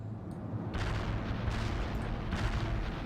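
Heavy artillery guns pound away in a World in Conflict battle, a dense, continuous roar of booming blasts layered over one another, loud and sustained with no voices.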